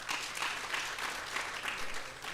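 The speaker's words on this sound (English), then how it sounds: "If you don't clap, can you clap for them again?" At a university funding conference, a seated audience gives a panel a dense round of clapping, moderately loud and unbroken throughout, with no speech on top.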